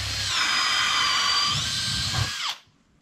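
A power drill runs close and loud at a steady high whine, dips slightly in pitch, then stops abruptly, leaving a quiet room.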